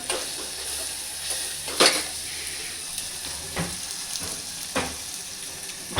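Red chilli and coriander-cumin powder sizzle steadily in hot oil in a home kitchen, a close continuous frying hiss broken by several soft scrapes and knocks of a spoon stirring the pan.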